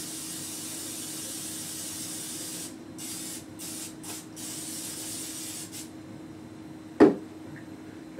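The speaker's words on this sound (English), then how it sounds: "we need to spray the cookie sheet with Pam." Pam cooking spray hisses onto a cookie sheet in a long steady burst, close and fairly loud, then breaks into a few short spurts, followed by a single sharp clack.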